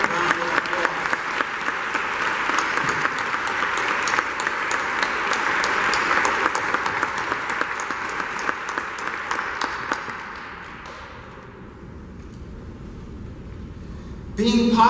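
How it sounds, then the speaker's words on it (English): Sustained applause from an audience honoring the university's incident response team at a one-year memorial event, loud and dense for about ten seconds before tapering off and fading out. "Let's give them a special round of applause."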